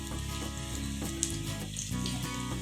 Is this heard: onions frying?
yes